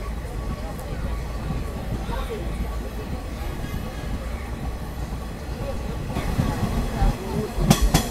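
An old Kiha 47 diesel local train rolls along the Yangon Circular Railway with its doors wide open, giving steady rumbling wheel and wind noise under talking voices, with rattling clatter building near the end.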